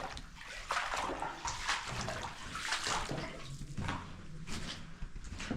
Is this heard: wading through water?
yes